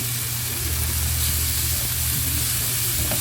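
Chopped onion hits a hot pan with homemade sauce for fried snails, giving a loud, dense, continuous sizzle and hiss with a low rumbling undertone throughout.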